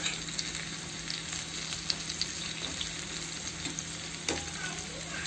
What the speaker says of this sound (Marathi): बघा पकोडे टाकलेले आहे। याला आता खालवरतं करून घ्यायचं।